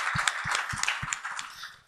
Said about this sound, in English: So big round of applause for him as well